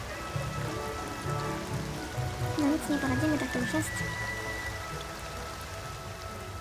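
Steady rain pours down in The Sims 2 game world, a continuous hiss of drops on surfaces running the whole time, with a person talking over it.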